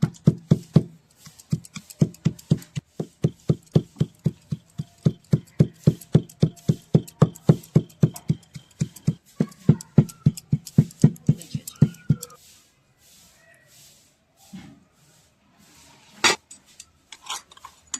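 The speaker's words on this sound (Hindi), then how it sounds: "लहसुन को भी इसी मसाले के साथ में कूट लेती हूँ" Garlic pounded together with spices in a mortar for a kadai paneer cooked on a traditional clay stove: a long run of steady, evenly spaced thuds, close and distinct, slowing and breaking into scattered knocks near the end.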